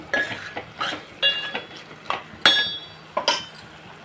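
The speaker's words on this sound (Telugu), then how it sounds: "ఒకసారి ఉడికిన కదా కొన్ని పాలు వేస్తాను" A spoon stirs green banana curry in a metal pot after milk has been added, giving several sharp clinks and scrapes at irregular intervals, close and fairly loud, with no voices.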